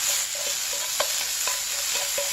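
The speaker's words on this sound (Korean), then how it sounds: "적절하게 잘 볶아주세요." Seasoned food for bibimbap stir-fried in a hot pan, a steady loud sizzle with repeated sharp scraping strokes of a utensil against the pan roughly every half second, no voices.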